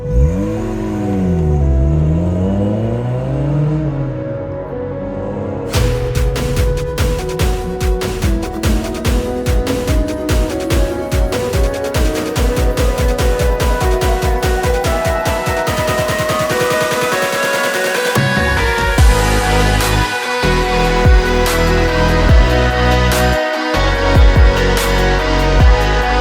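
A 1990s Rover Metro accelerating hard through Cheddar Gorge, its engine climbing steadily in pitch through the gears, loud and close from inside the car, with a brief lift between shifts.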